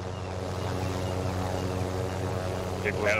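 A plane's engine drones low and steady in the Warzone Caldara video game, a constant mechanical hum with a faint higher sound near the end.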